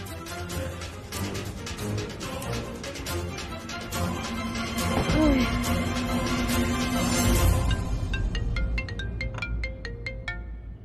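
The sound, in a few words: phone ringtone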